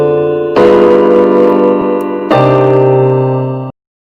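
Two sustained, dense jazz piano chord voicings ring out one after another, rich, crunchy and clustered, each held for about a second and a half before cutting off.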